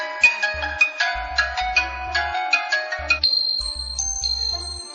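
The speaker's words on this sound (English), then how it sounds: "You can change your alarm sound." The HTC Sense alarm sound plays on a Nexus One phone: a bright electronic chime melody over a rhythmic, pulsing bass line, ending with held synthetic tones. No talking is heard.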